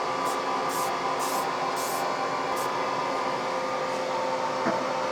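A spray paint can releases blue paint in about five short, hissing bursts in quick succession, over a loud, constant machinery drone.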